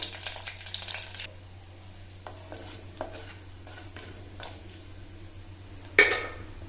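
Karuvadagam seasoning fries in oil as tempering for a green field bean kuzhambu, a low steady crackle and sizzle with a brief rush at the start and a sharp utensil clatter near the end.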